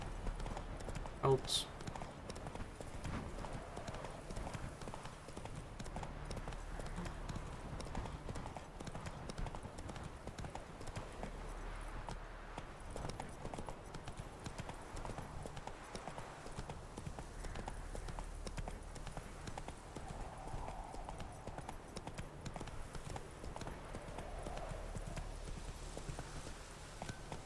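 Horse hooves clip-clop steadily during a ride in The Witcher 3, a soft repeating trot under someone talking.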